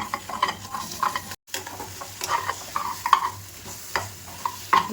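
Prawn, dry fish and egg palya being stirred in a pan, a spatula scraping and clattering in uneven strokes over a low, continuous sizzle, close up with no voices.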